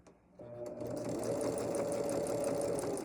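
A sewing machine stitches a fabric seam on a table runner. After a brief start-up it settles into a steady, rapid whirring hum with a fast mechanical chatter, close by and continuous.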